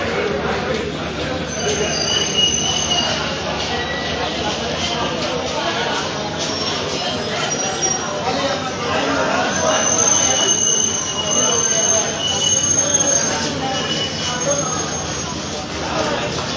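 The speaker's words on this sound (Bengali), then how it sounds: "ট্রেনটির বেশ কয়েকটি বগি ছাড়াই চলছে, 3-4টি।" Kanchan Commuter train running through Pirganj railway station with a few coaches missing, a steady loud rumble of wheels on rails with high metallic squeals rising and falling throughout.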